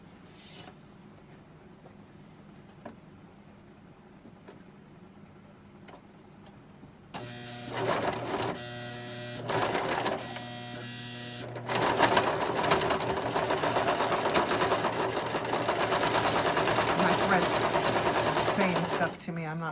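A sewing machine stitches a tote bag, starting after a quiet stretch with short back-and-forth bursts to reinforce the seam, then running in a long steady loud whir to the end.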